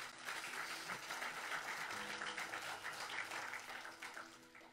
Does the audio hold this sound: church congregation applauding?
yes